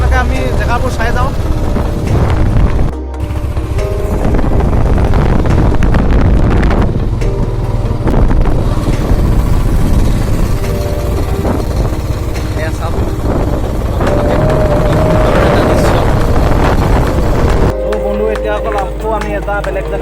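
A motorcycle ride toward Likabali's iron bridge, its engine droning steadily and loud with heavy wind buffeting the microphone, brief dips as the throttle changes, and voices occasionally talking over it.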